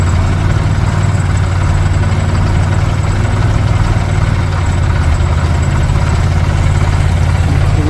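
A fire tender's engine runs its water pump, a loud, steady low droning rumble that holds unchanged throughout, close and without speech.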